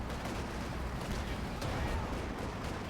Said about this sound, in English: Puma gets 2 shots for no reply